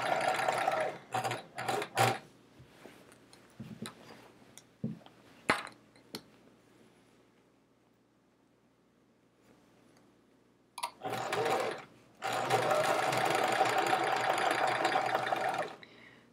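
A home sewing machine stitches rows of a chevron quilt top together in several loud running bursts, with quieter gaps, faint clinks and handling noises between them.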